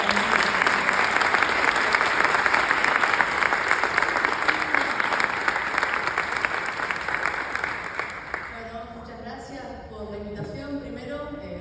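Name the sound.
applause for a journalist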